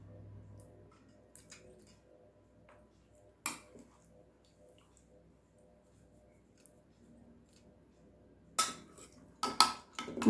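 Dishes and cutlery clink while fish head curry with potol and potatoes is served: sparse metallic clinks and scrapes over a quiet background, with a cluster of sharper, louder plate and spoon knocks near the end.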